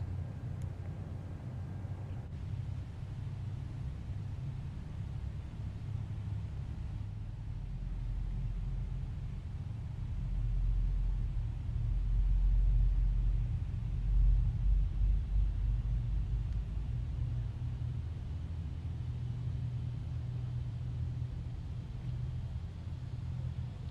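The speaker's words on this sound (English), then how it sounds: "I love the sounds of these GE engines." Four GE engines on a Boeing 747-8F freighter spool up in Microsoft Flight Simulator, a low, steady rumble with a broad rushing whine that swells toward the middle and then holds, heard alone without talk.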